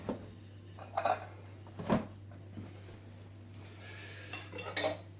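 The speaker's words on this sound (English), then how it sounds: "I'm going to put this in the crock pot." Food transferred from a stovetop pot into a crock pot for slow-cooker ropa vieja, heard as a few close clinks and scrapes of a utensil against cookware over a quiet hum.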